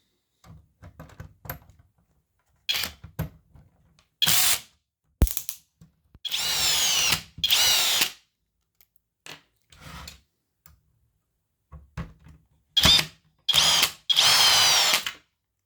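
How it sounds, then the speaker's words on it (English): A cordless drill unscrewing long screws from a Kyocera Ecosys P2040dn printer whirs in several short bursts and a few longer runs, separated by quiet handling clicks and taps, close by. "Those screws are quite long, so I will just unscrew those with my drill."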